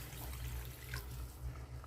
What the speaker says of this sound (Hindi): इसमें स्वाद अनुसार पानी डाल देते हैं